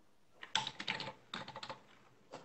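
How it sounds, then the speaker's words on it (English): Fingers tap on a computer keyboard in a quiet room, two short bursts of rapid keystrokes separated by a pause, close and fairly soft, with no talking. "I'm typing all the links in here."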